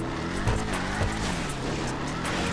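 A Ford Mustang SVT engine in GTA Online drones steadily at moderate volume, its low exhaust note rising and falling slightly as the muscle car cruises, with faint tire noise.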